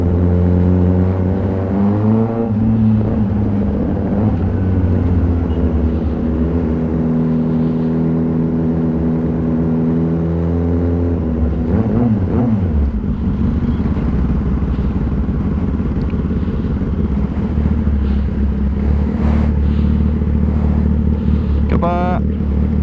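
A 2021 Kawasaki ZX-10R fitted with an Austin Racing exhaust holds a loud, steady high-rpm drone on launch control. The pitch bends and wavers midway, and a sharp rev flutter comes near the end, with riding noise throughout.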